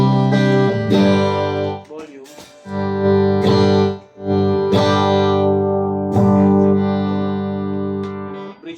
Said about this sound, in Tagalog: Mid tsaka bridge pickup. Ito po yung tunog.